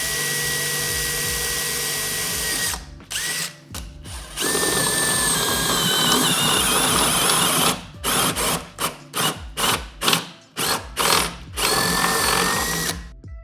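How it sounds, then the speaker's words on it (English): A power drill whines steadily as it bores a hole during a Ski-Doo snowmobile install, then stops and starts in a series of short bursts toward the end. "Start with a pilot hole first, and then drill it out to 3/4 of an inch."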